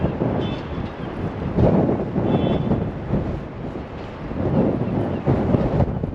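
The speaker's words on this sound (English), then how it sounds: "it's very windy" Strong wind by the water in Brighton buffets the microphone in loud, rumbling gusts that rise and fall, with a brief faint tone in the background.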